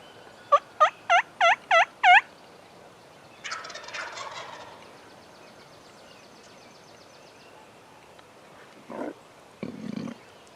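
A wild turkey gobbles in a rapid, rattling burst outdoors in Ohio, fairly near, followed by fainter gobbles and calls further off across quiet woods.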